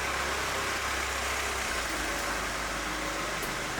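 A car engine runs with a constant low hum beneath steady broadband noise, continuous and fairly close throughout, with no talking.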